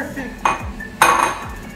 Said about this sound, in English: And now I'll give it a little stir.